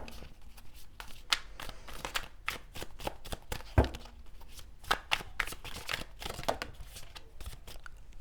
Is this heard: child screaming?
no